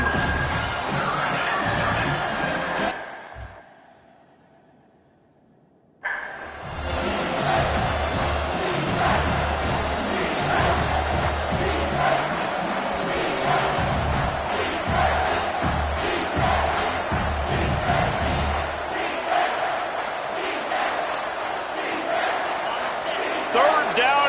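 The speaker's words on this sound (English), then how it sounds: "This crowd will blow out a vocal cord to help this defense." A stadium crowd in the NCAA 25 football video game roars loudly and steadily, cut out briefly by a few seconds of near silence before the dense cheering and yelling surges back and sustains.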